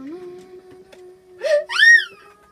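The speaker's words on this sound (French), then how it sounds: "J'entends un zombie, je sais pas d'où il vient" A zombie in Minecraft groans, a loud, close, rising and falling moan that swells twice over a steady low background tone, with no talk over it.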